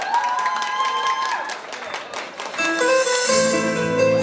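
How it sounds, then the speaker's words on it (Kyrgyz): At a concert in Moscow, an audience applauds and cheers to welcome the performer, a crowd of clapping hands mixed with sustained music that swells louder toward the end. "мырзаны кол чабуулар менен тосуп алабыз"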